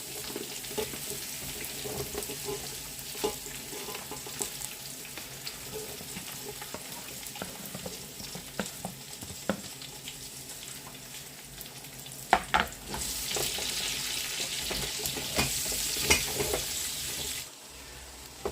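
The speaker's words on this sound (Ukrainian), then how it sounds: "засипаємо сюди цибульку, щоб вона обсмажила до золотистого кольору" Chopped onion frying in a pan alongside eggplant on a gas stove, a steady close sizzle with scattered stirring scrapes and clicks, the frying growing brighter and louder toward the end before cutting off.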